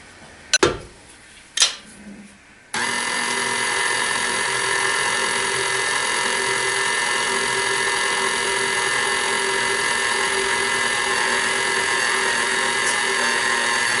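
An electric mixer beats chocolate chip cookie dough in a steady, loud mechanical whir after a couple of knocks, with no talk.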